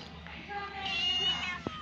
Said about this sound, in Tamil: சரியான குறும்புக்கார பூனை